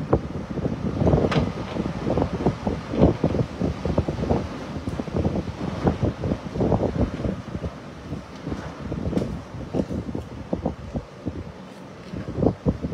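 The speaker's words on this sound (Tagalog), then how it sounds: "para pinasilip ko lang sa inyo na ganun kalakas yung hangin dito" Strong typhoon wind at the height of Typhoon Uwan, rushing and buffeting the microphone in loud, continuous gusts with rumbling low roar, steady throughout with no talking.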